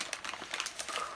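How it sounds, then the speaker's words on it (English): Sheet of paper slowly crumpled by hand for bark-style art, a faint close crinkling and rustling in short bursts, no voice. "is to crumple the paper up"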